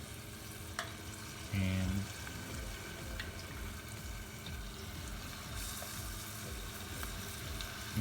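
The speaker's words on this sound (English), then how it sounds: "we're going to fry this cauliflower" Battered cauliflower pieces frying in hot oil for Cauliflower Manchurian, a low, steady sizzle with a brief louder thump early on and a single short spoken word.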